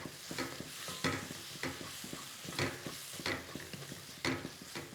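A spoon stirs fish masala with coriander and mint in a pan, giving quiet rhythmic scraping strokes about every second over a faint sizzle, with no talking.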